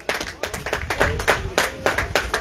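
Applause greets a finisher on the podium at a cyclo-cross race, with a small crowd clapping unevenly, close and fairly loud, in bursts of sharp hand claps.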